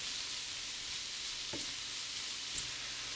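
Shrimp and garlic sizzle in butter in a pan, a steady quiet hiss of frying with a faint utensil tap partway through.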